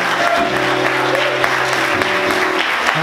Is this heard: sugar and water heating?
no